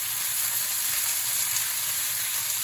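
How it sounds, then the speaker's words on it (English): Celery and sliced potatoes stir-fry in a hot pan with a steady, dense sizzle, close and even throughout, with no talking. "Keep stir-frying until fully cooked."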